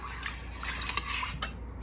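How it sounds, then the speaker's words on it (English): Minced garlic stirred in a metal pot, a steady scraping and clinking of a utensil against the pan, close and fairly loud, with no talking. "just give that a good stir"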